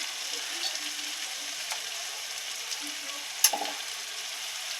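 Large prawns frying in a pan of spice paste, sizzling steadily and close, with faint stirring scrapes and one brief sharp clink near the end.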